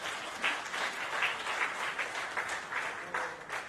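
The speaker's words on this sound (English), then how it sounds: "A big round of applause for Kirti, ladies and gentlemen" At an industrial business conclave hall, the crowd gives a continuous round of clapping, fairly soft and distant, with gentle swells in intensity and no voices over it.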